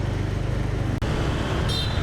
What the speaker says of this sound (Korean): 오토바이가 어디서 이렇게 나온 거야?